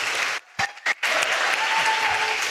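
Audience applause at an ESA press conference with project astronaut Marcus Wandt, a dense burst of clapping that cuts out briefly with a few isolated claps, then resumes steadily.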